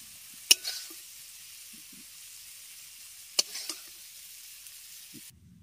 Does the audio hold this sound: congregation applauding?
no